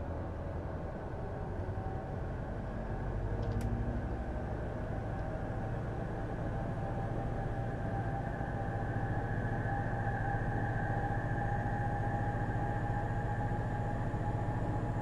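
A train in the Train Simulator 2022 video game rolls along with a steady low engine drone and rail rumble, constant and fairly loud, with a faint high whine above and a brief click near the start.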